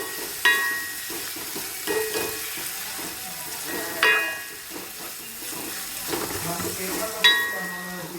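Tomatoes and onions sauté in a pan for Kerala-style duck roast, giving a continuous sizzle with periodic metallic clinks and scrapes of a spoon against the vessel, each strike ringing briefly.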